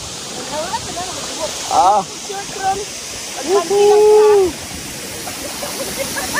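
At Hisetsu Falls, a hot-water waterfall, falling water roars in a loud, continuous rush while people talk excitedly over it.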